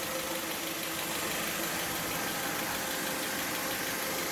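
A 1995 Toyota Tercel engine idles steadily, a continuous close mechanical rumble with a faint knocking texture and no talk.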